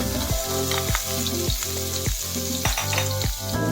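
Garlic sizzles loudly in a hot frying pan for a seafood spaghetti sauce, a steady crackling fry with regular scraping stirs about every half second, close and without talk.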